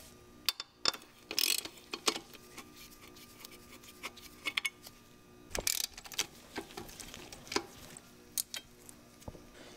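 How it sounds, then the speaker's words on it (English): Ratchet fitted with a 10mm socket unbolting the fuel rail on a Volvo 850 Turbo engine; a few quiet bursts of rapid clicking with pauses between them, fairly faint, with no talking. "Using a 10mm socket,"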